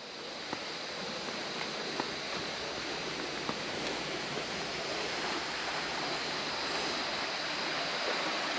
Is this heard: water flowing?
yes